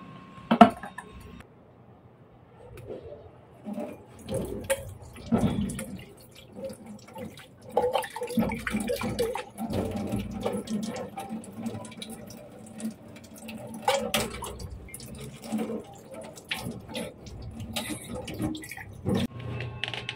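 A plastic gallon container being rinsed and washed by hand with water, with irregular splashes, drips, hollow plastic knocks and clunks, quiet and close, with no talking.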